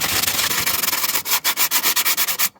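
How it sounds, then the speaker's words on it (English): Hand sanding of a rusty rocker panel on a 2013 Honda Civic LX coupe with 150 grit sandpaper, loud close continuous rasping that breaks into quick rhythmic back-and-forth strokes before stopping abruptly. "now I got some 150 grit sandpaper"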